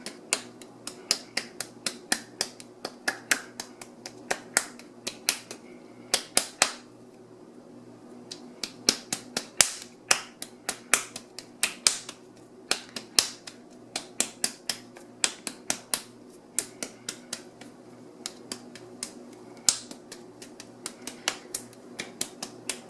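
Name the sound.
patting wedged clay into a ball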